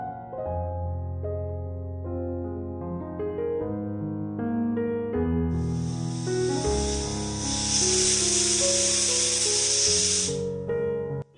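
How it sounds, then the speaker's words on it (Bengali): A pressure cooker whistle releases steam while mutton kasha cooks in a home kitchen. The loud, sustained hiss rises after a few seconds over background music and keeps going steadily to the end. "কষানো হয়ে গেলে প্রেশারে একটা সিটি দিয়ে দেবো"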